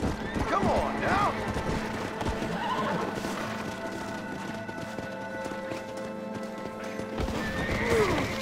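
A horse in the game Red Dead Redemption: Undead Nightmare whinnies loudly and repeatedly over a steady clip-clop of hooves, with game sounds and someone talking throughout.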